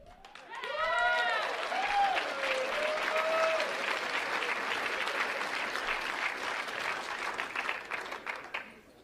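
Audience applause breaks out after a short spoken line, a dense, sustained wash of clapping that swells quickly, holds for several seconds, then thins out.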